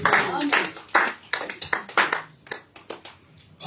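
A church congregation applauds in a lively burst of clapping with rhythmic surges, close and fairly loud, while a voice talks over it.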